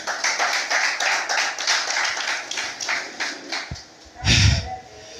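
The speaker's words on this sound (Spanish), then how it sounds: "Denle palmas al que vive" A church congregation claps together in a steady rhythmic beat that fills the room, then breaks off into a louder, brief burst of noise near the end.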